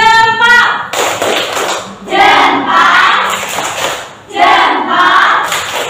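A classroom group performs a thumb-clapping chant, loud unison shouts in bursts alternating with claps and thuds, close and energetic.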